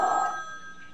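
A telephone bell rings once in a quiet room, a bright metallic trill that decays over about a second, alone with no talk.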